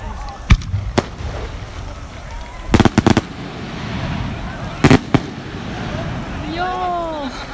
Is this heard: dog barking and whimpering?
no